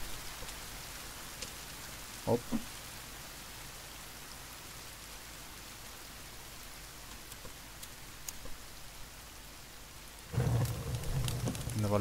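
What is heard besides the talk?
rain falling in The Forest video game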